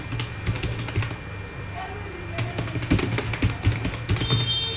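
Quiet computer keyboard typing as text is entered into a text box while making an ID card, with irregular bursts of close key taps and brief pauses.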